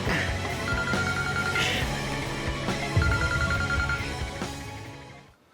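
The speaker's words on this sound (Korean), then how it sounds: "그 순간 걸려온 현수의 전화" A phone ringing in repeated electronic trills, several rings in a steady pattern over background sound, fading out at the end.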